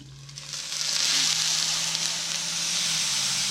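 Brussels sprouts sizzle in a pan on medium heat, a steady close hiss of frying that swells over the first second and then holds even throughout.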